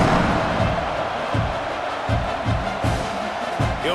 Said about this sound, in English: Do you think this crowd's going to get loud when their defense comes on the field?